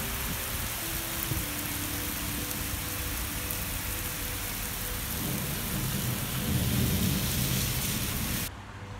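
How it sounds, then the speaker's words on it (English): Heavy rain pours steadily outside while thunder rumbles low through the downpour, with no voices. "I'm really glad that it's raining right now."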